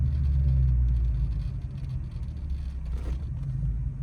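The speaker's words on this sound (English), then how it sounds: "The car was about to die." A manual car in first gear, slowing down without the clutch pressed and close to stalling: a low, lumpy engine rumble that labours and wavers at moderate volume, with no talking.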